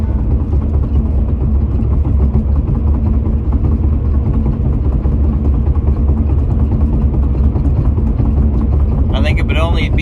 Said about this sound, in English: there is a lot of road noise coming from this car